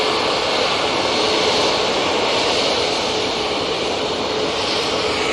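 An EasyJet airliner at Manchester Airport produces a steady, loud, broad jet engine roar that stays level and continuous throughout, with no voices over it.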